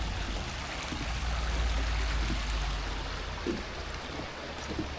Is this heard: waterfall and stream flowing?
yes